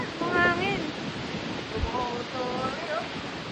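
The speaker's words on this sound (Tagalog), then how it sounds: "Lakas ng hangin." Strong wind gusts across a beach resort in Batangas, a loud, broad roaring rush buffeting the microphone, with voices talking over it.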